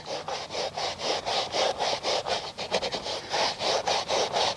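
Mastersons Car Care All Purpose Super Cleaner being scrubbed into a scuff on car carpet with a brush: close, rhythmic back-and-forth strokes, about four per second, steady and raspy with no talking.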